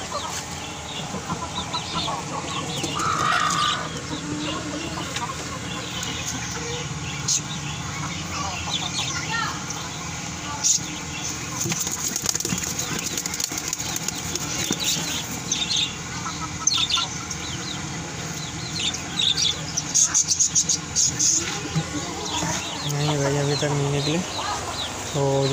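Chickens cluck and a rooster calls repeatedly at close range amid farmyard bustle, with people talking intermittently throughout.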